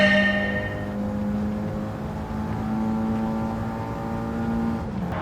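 A front-engine, rear-wheel-drive Nissan 180SX lapping a track in Gran Turismo 7, its engine droning steadily as it holds and shifts through revs, loud and close, with no talking.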